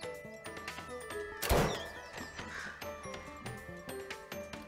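In the game Night in the Woods, a bird caws as it is shot, giving a short harsh burst mid-clip over a busy bed of game music and effects.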